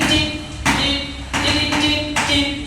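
A steady beat is tapped out in a classroom, with sharp, evenly spaced knocks about every two-thirds of a second over a background of room noise.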